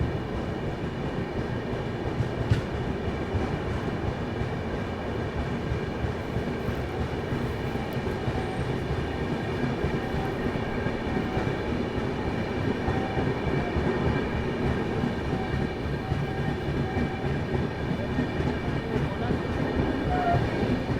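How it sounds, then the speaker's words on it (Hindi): The Kamayani Express stands at a railway station at night, producing a steady low rumble and hum that continues evenly throughout, with no distinct wheel clatter. "और यहाँ सामने है कमायनी एक्सप्रेस।"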